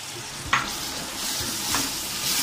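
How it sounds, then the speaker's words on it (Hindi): Tomato paste and mutton frying in a pan for kofta curry, a close steady sizzle with scraping stirs, a sharp clink near the start and occasional spoon scrapes across the pan, no talking. "अब इसको मैं 5 मिनट तक फ्राई करूंगी"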